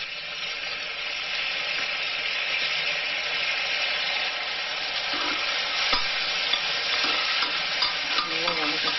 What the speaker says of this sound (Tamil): நல்லா வதக்கிட்டு ஒரு 2 மினிட்ஸ் வதங்கினா போதும்